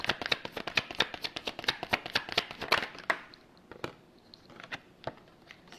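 Tarot cards riffled and shuffled in quick, dense rustling bursts for about three seconds, then a few sparse card flicks and slaps as cards are drawn, close and fairly quiet with no talking.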